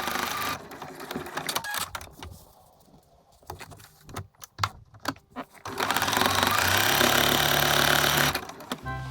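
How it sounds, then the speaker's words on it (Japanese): Sewing machine stitching a drawstring bag made from fabric scraps, right sides together with a 5 mm seam allowance: whirring runs in short bursts with a pause in between, then a loud sustained run. "中表にして縫い代5ミリで縫おう。"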